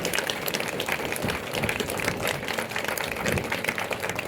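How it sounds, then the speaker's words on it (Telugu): Audience applause at a devotional spiritual discourse in Hyderabad: a steady, moderately loud wash of many hands clapping together, continuous throughout with no talk. "అందుకని గట్టిగా ఒకసారి చప్పట్లు."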